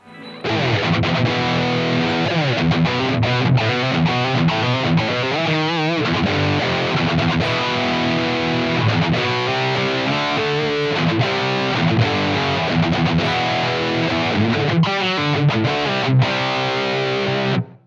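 Heavily distorted electric guitar played through a Blackstar amp, recorded straight from the amp's XLR output into an audio interface, a thick buzzing wall of chords and notes with a slightly thin, boxy tone, loud and without pause.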